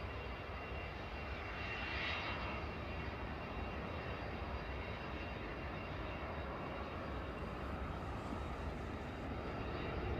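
An EasyJet Airbus A320neo bound for Amsterdam powers up on the runway at Manchester Airport, giving a steady, broad engine roar that holds loud and constant throughout, with no voices over it.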